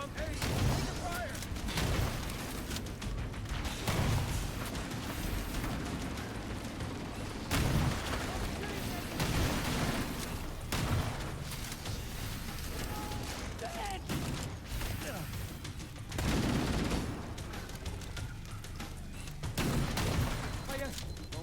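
Sustained sci-fi weapon fire in a Halo battle against droids, repeated bursts and thuds with mechanical clatter throughout.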